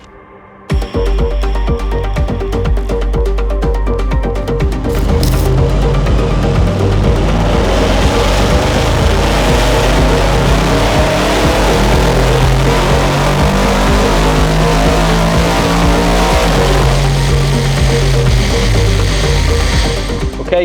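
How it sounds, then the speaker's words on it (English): An Audi RS6 C8 with a hybrid turbo package runs on a dyno, starting abruptly and holding a loud, dense mechanical roar that climbs and surges for the full twenty seconds, with no talk over it. "Okay, so we've got the RS6 on the dyno."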